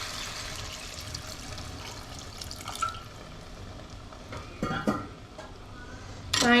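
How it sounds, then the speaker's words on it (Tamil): A glass of water is poured into a clay pot of country chicken curry, with splashing and trickling, clinks of a glass or utensil against the pot, and a sharper clatter near the end; no talk. "நான் 1 கிளாஸ் தண்ணி ஊற்றுறேன்."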